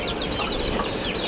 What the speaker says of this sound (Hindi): ये पीछे जो देसी मुर्गी है इनकी मम है, इनकी मम्मी है